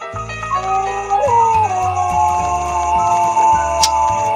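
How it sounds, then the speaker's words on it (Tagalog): A dog howls in a long, wavering cry that holds steady for several seconds, with a low droning hum and clinking sounds underneath. "muli na naman akong nakarinig ng tunog ng aso."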